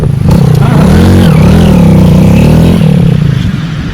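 A motorcycle engine revs loudly and close, its pitch rising and wavering as the bike pulls away, holding a steady roar for several seconds with no talking.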